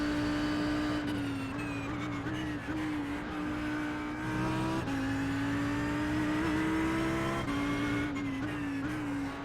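An Audi R8 GT3 race car in a racing game at Sandown, its engine note holding a loud, steady, sustained drone that climbs through gears with brief dips at each shift, heard close from the cockpit with no talking.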